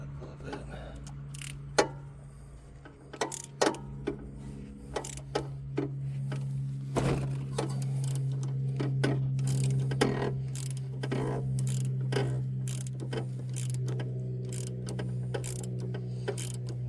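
A ratchet tightening a bolt on a Mazda RX-8 suspension during knuckle and coilover work, with bursts of sharp metallic clicks spread unevenly across the clip over a steady low hum, close and fairly clear.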